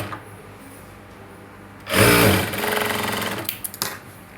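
A sewing machine stitching a blouse starts up after a quiet moment and runs in a loud, steady mechanical whir for about a second and a half, then slows into uneven clattering bursts before stopping.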